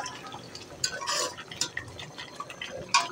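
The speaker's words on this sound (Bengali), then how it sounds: "গরম মশলা দিয়ে দিয়েছি, তেজপাতা, দারচিনি, এলাচি সব দিয়ে এখন একটু নাড়াচাড়া করছি।" Whole spices for a pigeon meat bhuna, garam masala with bay leaf, cinnamon and cardamom, being stirred in a pot, giving quiet scraping and clinking of a utensil in short bursts.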